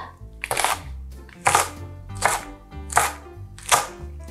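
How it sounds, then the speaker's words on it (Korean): A knife slices Cheongyang chili peppers on a cutting board in a handful of brisk bursts of rapid chopping separated by short pauses, close and clear over a low background hum. "잘게 썰어줍니다."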